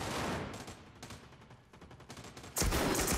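A shotgun goes off in a video game, with a sustained burst of loud blasts and crackling gunfire, ending in a sharp, heavy, close report, and no voices over it.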